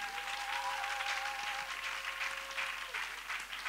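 A church congregation applauds in praise of the Lord, a dense and sustained clapping that fills the room with a faint steady tone beneath it.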